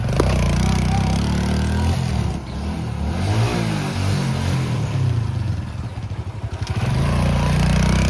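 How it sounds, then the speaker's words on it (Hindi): A motorbike is ridden nearby on a farm, its engine droning and revving with shifting pitch, loud and continuous throughout. "दोनों जा रहे हैं बाइक चलाने"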